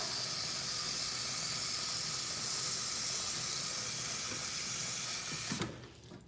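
Kitchen tap running steadily into a pot as water fills it for boiling pasta, a continuous close hiss that cuts off abruptly near the end.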